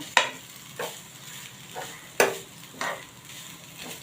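A spoon scrapes through khoa and grated coconut roasting in a pan over low heat, giving four or five distinct strokes spaced about a second apart over a faint steady sizzle.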